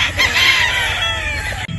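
A game fowl rooster crows loudly and close by, one drawn-out cock-a-doodle-doo filling most of the moment before it cuts off.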